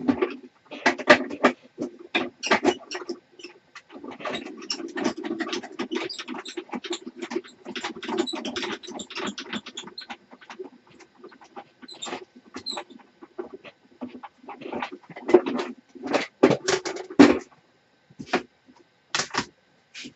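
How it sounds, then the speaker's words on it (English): Scissors cutting out a paper piece for a craft mini album: a long run of close, crisp snips and rustling paper in irregular bursts, some rapid and some spaced out, with no talking. "then I'll go ahead and cut this out with you"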